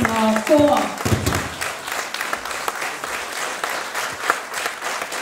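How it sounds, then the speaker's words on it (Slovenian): An audience applauds at a charity concert, with a steady wash of clapping continuing after a brief spoken greeting at the start, moderately near and even in level. "Dajmo še en velik aplavz."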